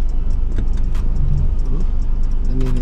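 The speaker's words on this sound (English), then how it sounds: "Let me even park the car." A car engine hums close and steady while the car is parked, with a few light ticks and clicks over the rumble.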